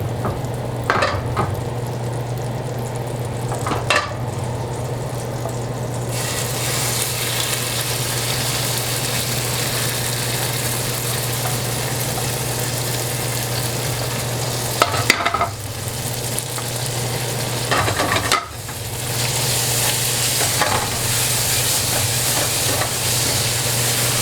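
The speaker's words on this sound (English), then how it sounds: "For your Lyonnaise potatoes, add butter to your pan and half of the caramelized onions." Lyonnaise potatoes and caramelized onions frying in butter in a pan give a loud, steady sizzle over a low hum, broken by a few sharp clanks and brief dips as the pan is handled.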